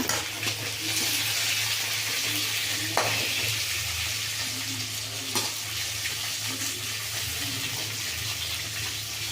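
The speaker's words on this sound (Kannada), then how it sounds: "ಮೆಣಸಿನ್ಕಾಯಿ, ಮೆಣಸು ಇಷ್ಟು ಹಾಕ್ಕೊಂಡು ಇನ್ನು ಸ್ವಲ್ಪ ಹುರಿಯೋಣ" Green chillies and pepper frying in a pan, a soft steady sizzle with occasional stirring scrapes and a faint underlying hum, close but quiet and without any voices.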